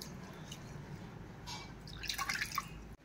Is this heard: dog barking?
no